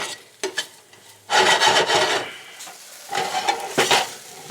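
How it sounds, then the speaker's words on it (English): Beef being browned with flour in oil and butter in a pot for a noodle stew, giving a rough scraping and sizzling stir in two louder bursts separated by quieter pauses, close by with no talking. "Now we want to brown up the meat, but we also want to soak up all of that oil and butter with the flour"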